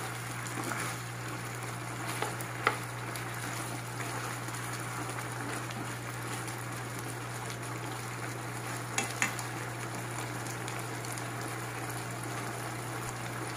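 Green banana and tomato stew simmers and sizzles in a pot, a steady soft bubbling and frying crackle under a constant low hum, with a few faint clinks of a utensil.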